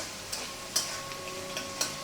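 Chapa shutki, a pressed dried fish, frying and being stirred in a pan: a low, steady sizzle broken by a handful of soft scraping strokes spaced irregularly, with no talking.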